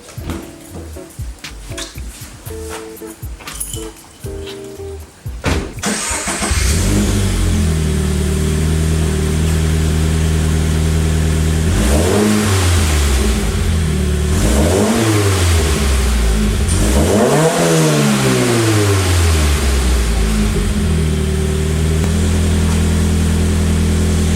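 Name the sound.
Toyota 86 car driving at night in the rain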